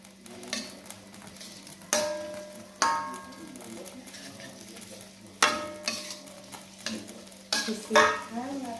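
Corned beef fried rice is stir-fried in a pan, with repeated loud spatula scrapes and clanks against the metal over a soft sizzle in an uneven rhythm.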